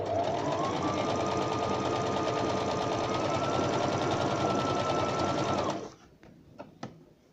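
A Brother BM 3700 sewing machine runs a 3-step zigzag stitch for attaching elastic, a loud, steady whirring drone for several seconds that stops abruptly, leaving a few faint clicks.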